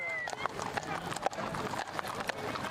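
A horse neighs and whinnies among hooves clip-clopping at a cowboy ride. The sounds are moderately close, mixed with other noise, and people talk over them.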